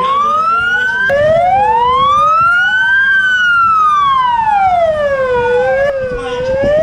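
Fire engine sirens wail during an earthquake drill in Istanbul, loud and close, their pitch sweeping slowly up and down in long overlapping cycles over a steady rumble of traffic.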